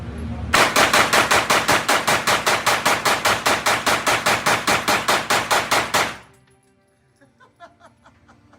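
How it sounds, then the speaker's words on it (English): A Bear Creek Arsenal BC 9 AR pistol fired at a range in a fast, even string of roughly two dozen loud, close shots over about five seconds, followed by quiet. "Also, you get to shoot a gun."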